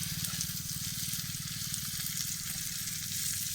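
Fish frying in a pan outdoors gives a dense, continuous sizzle, close and fairly loud, with a fast fluttering crackle running beneath it and no voices.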